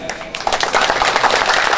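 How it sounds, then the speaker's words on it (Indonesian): Brief burst of crowd clapping for the Karang Taruna youth group at an Isra Mi'raj religious gathering, quickly swelling to a steady patter of many hands. "Matak tepuk tangan buat Karang Taruna ya."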